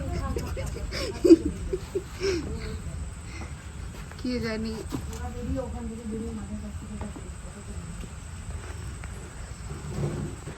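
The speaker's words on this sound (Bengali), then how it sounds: "আপনারা শুনতে পাবেন সুন্দর ঝিঝি পোকার ডাক" Crickets chirp steadily on a cool, rainy evening, a faint continuous trill beneath laughter and casual conversation close by.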